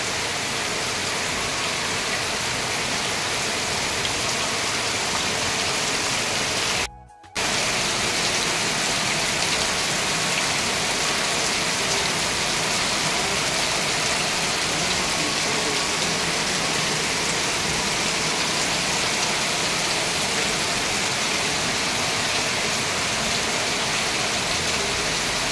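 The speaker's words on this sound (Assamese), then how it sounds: "বহুত ডাঙৰকৈ দিছে বৰষুণ" Heavy rain pours down in a loud, steady hiss that is close and continuous, briefly cut off once before resuming unchanged.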